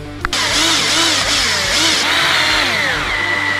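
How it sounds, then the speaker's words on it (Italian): A power screwdriver drives screws into the wing mount of a Team Corally Kagama 6S RC car, whining steadily and loudly up close, its pitch rising and falling as the load changes. "andiamo ad avvitare anche quello"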